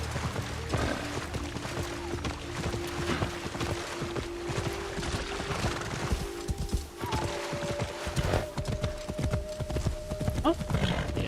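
A horse clip-clops steadily in the Assassin's Creed Shadows video game, hooves beating a regular rhythm under a low musical drone, with a brief tonal chime near the end; fairly quiet and alone.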